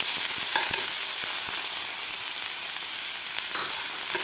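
Chopped onion fries with cumin in a hot pan for a mixed-vegetable paratha filling, giving a constant bright sizzle with a few sharp clicks from stirring, close and uninterrupted.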